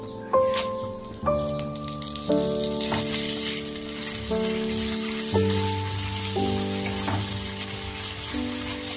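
Washed Gobindobhog rice tipped into ginger paste frying in a pot for bhoger khichuri, making a bright, hissing sizzle that runs throughout under loud background music with shifting sustained tones.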